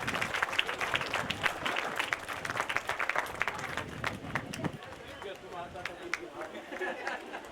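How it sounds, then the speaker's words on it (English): An audience at a college festival applauds the chief guest, dense continuous clapping with chatter and crowd babble underneath, fairly loud and sustained before thinning slightly. "Round of applause, please."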